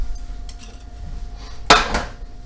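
Metal pans clank and scrape on a stove during cooking, with soft knocks early on and one sharp loud clatter followed by a lighter rattle, close up and without talk.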